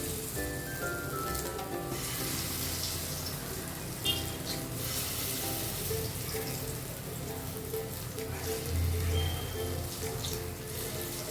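Ripe banana fritters dropped one by one into hot oil, giving a steady soft sizzle with faint bubbling, close and alone.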